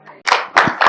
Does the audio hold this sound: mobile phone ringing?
no